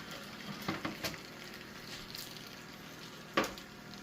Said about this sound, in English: Like the bacon is frying up nice.